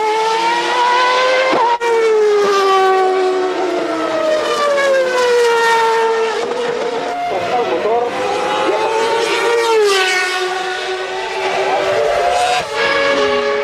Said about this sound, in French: C'est l'heure d'attaquer et le rugissement de la McLaren se fait entendre.